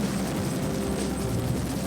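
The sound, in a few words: EH-101 helicopter flying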